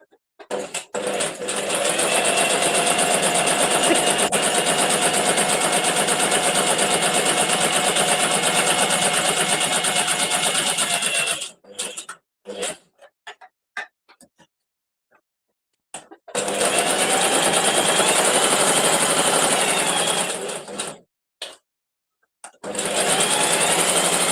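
A sewing machine runs steadily with a loud, even mechanical whir, stopping briefly with a few short bursts before starting up again for another long run.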